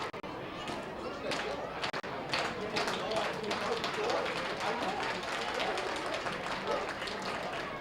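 Crowd at a Bethpage Ballpark baseball game, Somerset Patriots at Long Island Ducks, breaking into steady rhythmic clapping with two strikes on the batter, a dense sustained patter of many hands spread across the stands over continuous crowd murmur.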